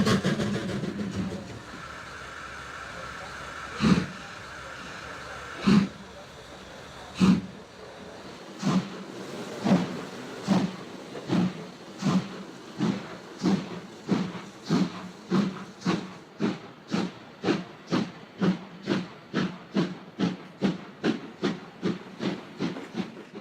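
A passenger train from Cluj rolls into the small Razvoieni station in Romania, wheels clacking over rail joints in a rhythm that quickens and grows denser, with a hiss of brakes or air early on.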